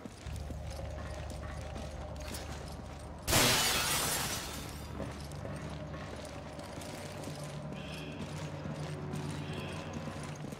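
A pane of glass shatters in Resident Evil 5: one loud, bright crash of breaking glass, then a tail of falling fragments, over a steady low game ambience with mechanical background noise.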